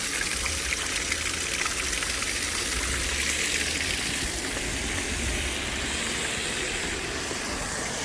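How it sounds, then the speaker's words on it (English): Water from a pump spills down a leaky backyard waterfall into an upper pond, a steady continuous gushing and splashing that holds at an even level, close by, with no talking. "Now it starts to come down"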